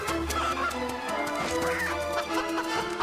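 Chicken clucking from the video game Fable 3, short busy clucks and squawks over a dense layer of game music and ambience, moderately loud throughout.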